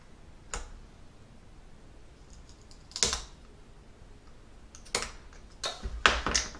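Cutting a section out of an HO scale model kit, a few sharp isolated clicks and snips spaced across a quiet background, close and fairly faint, with a quick cluster near the end and no talking.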